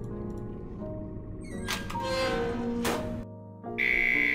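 Game alarm signal in Return to Mysterious Island 2, with whooshing swells and clicks of the soundtrack building before a sharp, sustained high electronic beep cuts in near the end; no one speaks.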